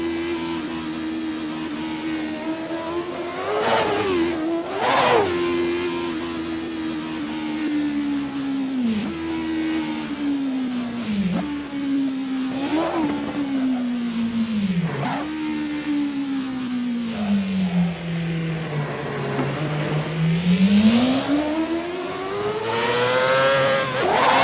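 Car engine revving hard with the clutch slipping, pitch surging and sagging in repeated swells, loud and close, with no one talking.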